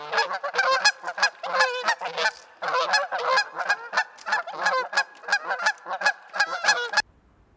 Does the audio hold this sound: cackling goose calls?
yes